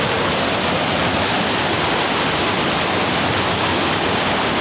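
A river rushes steadily along a riverbank in the aftermath of a cold lava flood, a loud, continuous broadband roar of flowing water with no pauses and no voices.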